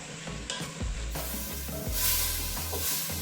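Chopped onions sizzle in a hot pan for scouse while a spoon scrapes and stirs them, with steady loud frying hiss and a few clunks against the pan.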